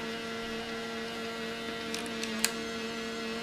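A Sony Walkman WM-F69 cassette player under restoration gives off a steady, faint electrical motor hum with a constant tonal drone, plus a few tiny clicks near the end.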